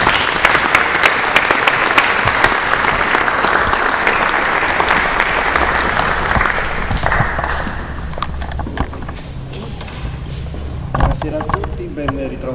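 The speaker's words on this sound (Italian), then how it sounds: "Accogliamo i maestri con un applauso." An audience at a baroque concert by Fairy Consort claps loudly to welcome the musicians, the applause thinning and fading after several seconds into quieter room noise and a few stray sounds.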